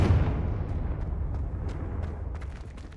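A Confringo spell in Hogwarts Legacy erupts in a loud low explosive boom that rumbles and slowly fades, with faint crackles over the tail.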